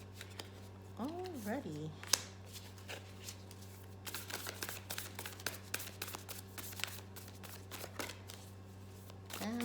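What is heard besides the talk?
shuffling tarot cards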